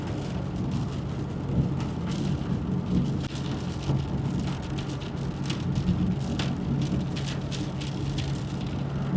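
Steady rain falls in Kuwait on the way to a hospital appointment, a dense, even wash of patter that continues without a break, with a low rumble like traffic or a car engine underneath.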